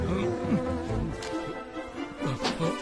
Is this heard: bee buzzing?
yes